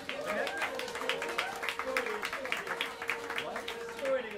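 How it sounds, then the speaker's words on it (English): Jazz club audience in New York City applauding an upright bassist, scattered clapping and cheers mixed with a speaking announcer over lingering room sound. "give a warm round of applause for the great Dishan Harper on the upright bass"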